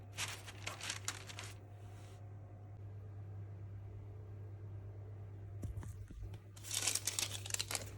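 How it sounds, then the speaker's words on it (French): A small piece of baking paper crinkles in bursts at the start and near the end, with a quieter stretch of room noise and a steady hum in between. "froissez un petit morceau de papier cuisson"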